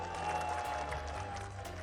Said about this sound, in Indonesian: Tepuk tangan buat Jokowi dan Prabowo.